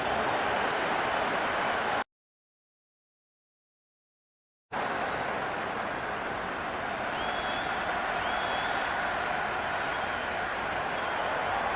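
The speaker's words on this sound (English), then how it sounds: "It's evident and ever so audible that the crowd is at near bursting point at today's play." Steady roar of a cricket stadium crowd cheering in the Cricket 26 video game during a Pakistan versus England T10 match, a loud continuous wash of noise broken by a brief silent gap, with no talk over it.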